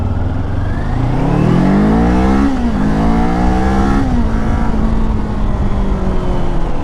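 A Mercedes-Benz car passes close by on a road near Bangalore, its engine tone rising and then falling. The sound is loud and continuous, under steady wind and road roar from a moving motorcycle.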